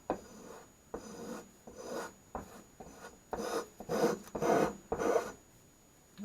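Vintage restored spokeshave taking wood shavings, a series of rasping, scraping strokes repeating roughly every second, close and moderately loud, with brief pauses between cuts and no talking.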